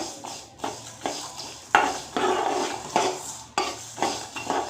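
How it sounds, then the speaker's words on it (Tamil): Homemade hair dye ingredients dry roasting in a pan, a series of close scraping and clattering stirs against the metal, irregular and fairly quiet, with no voices. "இதை நல்லா செவக்கிற அளவுக்கு வறுத்துக்கலாங்க நல்லா கருப்பாகிற அளவுக்கே வறுத்துக்கலாம்"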